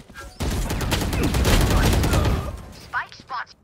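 Gunfire in the Valorant video game during a Breach flash play on the Split map, a loud sustained burst of rapid shots lasting about two seconds, followed by a couple of short sharp effects.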